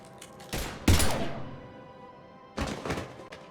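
Gunfire bursts in the video game Mass Effect Legendary Edition come as two loud, rapid clusters of heavy thumping shots, separated by a short lull with a lingering metallic ring.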